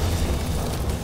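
Gunfire in Garry's Mod rumbles as a dense, continuous low-end barrage for about a second, loud and steady with no talk over it.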